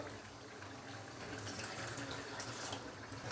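About a quarter cup of water is poured into a cooking pot of achari aloo with yogurt and potatoes, a soft, faint trickle and splash lasting a few seconds.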